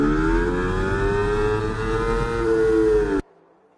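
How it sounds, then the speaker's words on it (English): A race car engine in a racing video game, heard onboard, roars loudly at high revs with a steady pitch, a smooth continuous whine that cuts off abruptly near the end. "Do love the car sounds on board."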